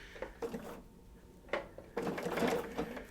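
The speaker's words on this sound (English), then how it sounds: "am going to drop my presser foot and lower the needle" A home sewing machine set to a 2.0 locking stitch runs slowly through quilt block fabric, making close mechanical whirring bursts that stop and start, with one short pause in the middle.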